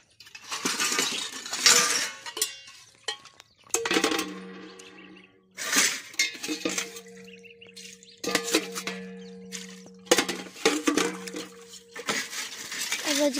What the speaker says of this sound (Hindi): चलो भाई कर लेते हैं बर्तनों की सफाई